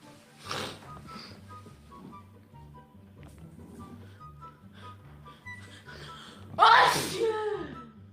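Sneezes in a fit, one short sneeze near the start and a louder, forceful burst later, close to the mic, with people speaking and background noise throughout.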